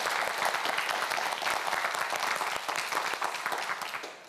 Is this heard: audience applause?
yes